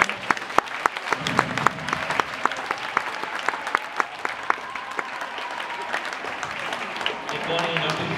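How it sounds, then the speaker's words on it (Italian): An audience at a children's gym recital applauds the parents and mothers who performed, a dense wash of clapping with sharp individual claps standing out near the recorder, steady throughout and swelling slightly at the end. "vorrei chiedere a tutti un grande applauso per i genitori, le mamme che si sono messi in gioco"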